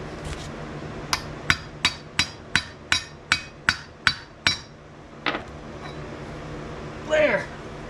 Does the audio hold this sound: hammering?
yes